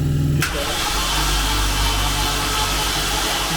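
Engine of a Landini 101 tractor turning over: a loud, continuous rough mechanical drone that starts abruptly and holds steady, close by.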